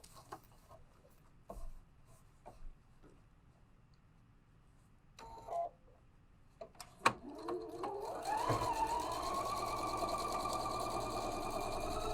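Sewing machine stitching a sewing machine caddy: quiet handling clicks and taps come first, then the machine starts and runs in a steady, close whir for the last few seconds.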